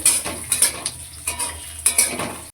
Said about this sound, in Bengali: পেঁয়াজটাকে এবার ভালোভাবে ভেজে নেব।